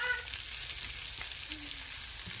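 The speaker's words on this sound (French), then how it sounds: "Donc maintenant on va ajouter les oignons." Onions frying in a pan for chicken choukouya, a steady soft sizzle running evenly throughout at moderate level with no voices.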